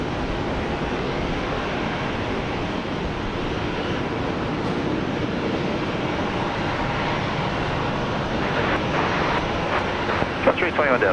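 An Airbus A321 airliner lands at Brisbane Airport, a loud, sustained roar of engine and rushing air that stays steady throughout, with faint clicks and rattles toward the end.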